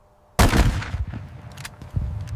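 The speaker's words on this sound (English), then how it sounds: "A single shot shattered the silence, the first gunfire of revolution." A single loud gunshot cracks out of near silence, followed by a rumbling echo that slowly fades.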